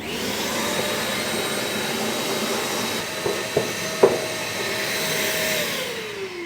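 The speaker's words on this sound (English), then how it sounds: "I use an inexpensive shop vac to get this done." An inexpensive shop vac runs steadily, drawing up old dust from a pellet grill's interior, a continuous airy whine and hiss with a couple of brief knocks partway through as the nozzle bumps around.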